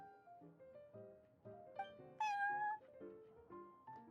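Cats meow in Genshin Impact at the Cat's Tail, a series of short, close mews in an uneven rhythm, with one longer, louder, higher meow near the middle, all on their own without talk.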